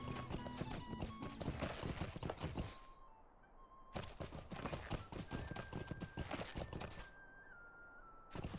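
Pony hooves clip-clop in the game Lord of the Rings Online as a bay pony heads toward Hobbiton, quick steady footfalls in bursts broken by a short quiet gap, close and fairly loud with no talk.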